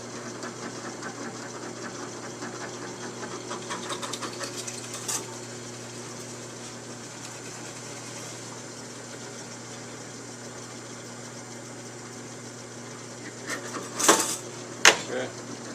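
A drill runs with a bigger bit while boring a heavy cod jig. It gives a steady, droning motor hum throughout with a few sharp clatters near the end.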